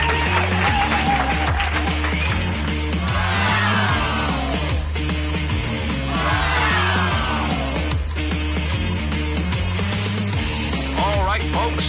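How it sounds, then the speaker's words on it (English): Loud, continuous audience applause with scattered whoops and yells from the crowd at a live broadcast stage show, mixed with music playing underneath for the whole stretch. "Come on, folks, let's hear that applause."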